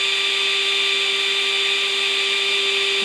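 A power drill bores through tough plastic on a BMW G650GS motorcycle fender extender, a loud, steady high-pitched whine held constantly throughout with no speech.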